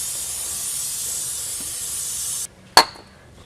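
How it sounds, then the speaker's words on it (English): Brake cleaner hisses steadily from an aerosol can onto the differential of a 25-year-old Chevrolet S10 pickup, then cuts off abruptly, followed by a sharp metallic clink and a faint tap. "got some good old brake clean"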